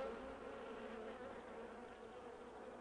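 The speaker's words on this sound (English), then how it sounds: "If the other bees want to know more, they make a special noise." Honeybees buzzing inside a hive during a waggle dance, a dense, steady, continuous hum that stays loud and close with no voices throughout.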